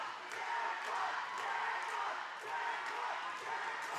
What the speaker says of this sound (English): Crowd is going crazy for Jackpot